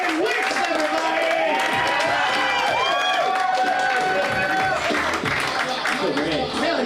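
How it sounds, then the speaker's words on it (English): Clapping and cheering break out across a crowd at a roast battle, loud and continuous, under a voice shouting over the noise. "I need y'all to clap it all the way the fuck up right now"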